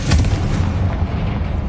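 A Confringo fire spell from Hogwarts Legacy on PS5 bursts into a loud booming blast with a short rumbling tail, heard up close and alone.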